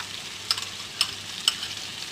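Chicken sautés with biryani masala and yogurt in a hot pan, giving a steady sizzling hiss with three evenly spaced clinks of a spoon stirring.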